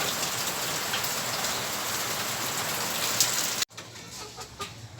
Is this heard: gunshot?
no